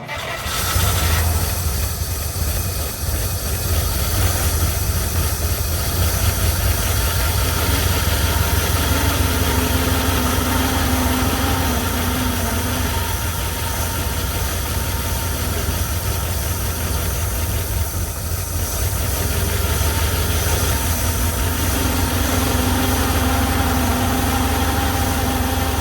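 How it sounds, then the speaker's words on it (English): A 1952 Cadillac engine, revived after decades sitting in a field, idles with a loud, steady low rumble and a faint whining alternator tone running underneath for the whole stretch. "My alternator's making a little bit of a noise,"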